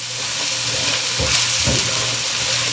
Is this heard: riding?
no